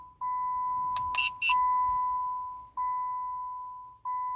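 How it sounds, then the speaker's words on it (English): A 2007-2009 Chrysler Aspen gives a series of long, steady electronic beeps with short gaps after key fob programming, plus a brief cluster of higher chimes early on, clear and close. "wait for a few seconds until you hear the beeping sound indicating programming is successful"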